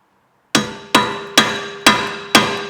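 Five sharp metallic hammer taps on a socket seated in a Torx bolt head on a Ford Mondeo Mk3 rear hub, evenly spaced, close and ringing briefly after each strike.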